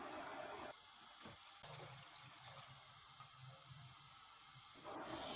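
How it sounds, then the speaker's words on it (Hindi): Three liters of water pour into a large cooking pot on a lit stove, giving a steady, moderately quiet splashing gush with a softer middle stretch and no voices. "अब देगचे में 3 लीटर पानी डालेंगे।"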